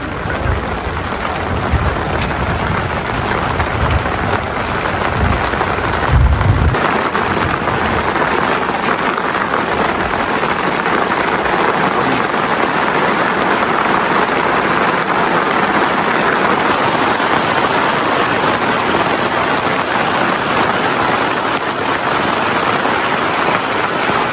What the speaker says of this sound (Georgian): დასწყო წვიმამ, აი ესეთი წვიმა მეჯერ არ მახსოვს